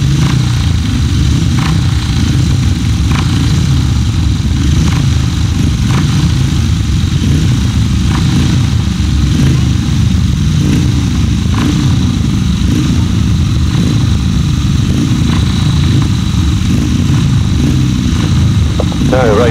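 500cc sidecar racing motorcycles at a grasstrack meeting, their engines droning loud and continuous throughout, with a commentator's voice running over the engine noise.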